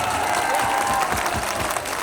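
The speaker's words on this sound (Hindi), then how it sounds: "ताली बजा दिए" A crowd at a Jan Suraj political rally in Bihar claps in a steady, dense roar of many hands, loud and continuous throughout.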